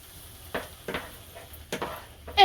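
Vegetables sautéing in a skillet for spaghetti, a faint low sizzle broken by a few short, sharp stirring scrapes and clinks spaced about half a second apart.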